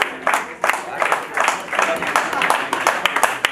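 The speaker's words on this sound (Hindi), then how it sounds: "जबरदस्त तालियां।" Brisk, uneven clapping from a small group on a Zoom meeting, the claps bunched in quick bursts that carry on throughout.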